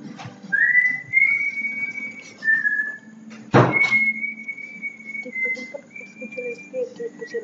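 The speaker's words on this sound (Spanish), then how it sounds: "mi papá está chiflando" A man whistles a few sustained, sliding notes with pauses between phrases, and a sharp thunk like a door or cupboard cuts in midway.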